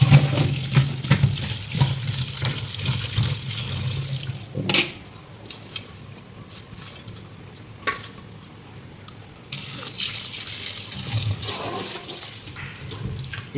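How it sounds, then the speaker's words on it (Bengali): Leafy greens (saag) being washed repeatedly in water by hand to remove soil and sand, with close splashing and sloshing that is busier at the start, then softer swishes and intermittent drips and rinsing sounds. "এইরকমভাবে অনেকবার ধুয়ে নিতে হবে, কারণ মাটি বা বালি এই শাকের মধ্যে অনেক থাকে।"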